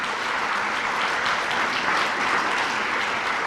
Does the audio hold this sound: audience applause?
yes